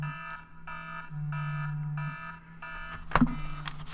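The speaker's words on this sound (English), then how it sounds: "Oh man, my alarm is blowing." An alarm beeps in repeated pulsed bursts over a steady low hum, fairly loud and close, followed by a sharp clatter near the end.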